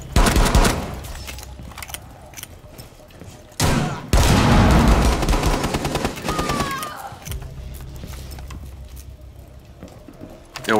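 Bursts of automatic gunfire and heavy volleys from a Rainbow Six Siege hostage match on the Kanal map, loud and close, with a dense fusillade in the middle and sporadic shots around it, mixed with game voice callouts.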